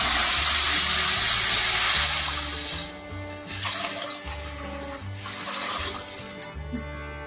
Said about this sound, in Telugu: ఇప్పుడు 4 కప్పుల వాటర్ వేసుకుంటాను